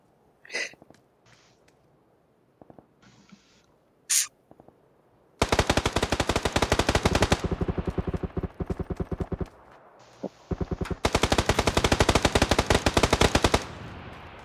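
Automatic gunfire in PLAYERUNKNOWN'S BATTLEGROUNDS rattles in two long, loud, rapid bursts, preceded by a couple of isolated sharp sounds and short bangs.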